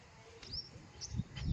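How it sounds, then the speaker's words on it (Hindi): Small birds chirp faintly in the forest behind a house in Hyderabad, giving a few short, thin tweets over quiet background hiss. "यहाँ पर देखो कितनी प्यारी प्यारी सी चिड़ियों की आवाज़ आ रही।"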